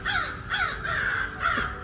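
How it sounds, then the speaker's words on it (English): Crows caw outdoors in cool air, four loud, close, harsh calls in a steady repeating rhythm, with no talking. "The crows, I must keep coming out during the time that the crows like to sing their song too."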